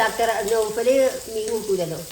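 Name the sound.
fish frying in a pan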